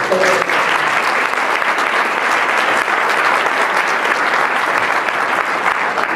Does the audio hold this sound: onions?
no